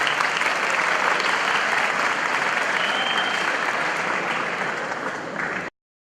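Steady, dense applause from a student audience at a university rector's meeting on a Brazilian campus, loud and continuous for about five and a half seconds before stopping abruptly.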